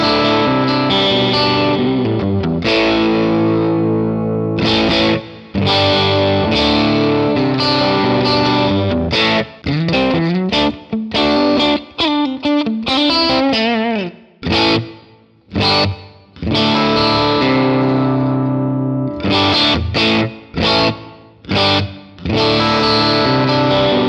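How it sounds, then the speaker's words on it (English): Electric guitar played through an effects unit with distortion, switched between chamber, hall, plate, room and spring reverbs; a continuous run of loud, sustained chords and bursts with brief gaps, each decaying into a different tail. "cycle through chamber, hall, plate, room, and spring, and just get a rough idea of the different character of each of these reverbs"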